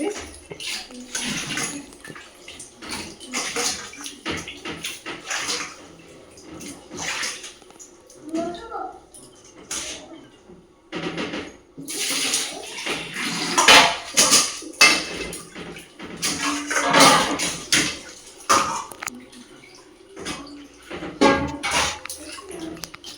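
Chicken feet being washed by hand in water in a cooking pot for a cabbage recipe, with steady splashing, sloshing and clinking of the pot close by, while people talk over it throughout.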